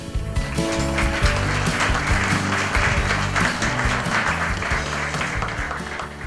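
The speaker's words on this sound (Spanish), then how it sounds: "La recibimos con un fuerte aplauso." Sustained applause from a lecture audience welcoming a speaker, steady and fairly loud, mixed with music playing throughout.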